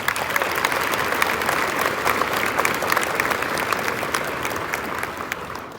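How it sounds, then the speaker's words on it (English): An audience claps in sustained, dense applause at a graduation-related gathering, a steady wash of many hands that tapers slightly at the end, with no voices over it. "So big round of applause."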